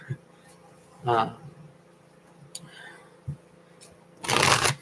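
A Sirena oracle card deck by Mr. Friborg is shuffled face up, giving a soft riffle near the start and a louder, denser burst of card shuffling at the end, with quiet pauses between.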